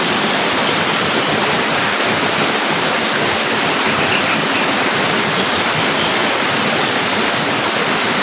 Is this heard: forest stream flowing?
yes